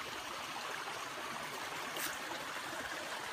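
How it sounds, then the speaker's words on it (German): A small river in the Rhodope Mountains flows steadily, a continuous soft rushing and trickling of water with no voices, even and unbroken throughout. "Hier ist ein prima kleiner Fluss"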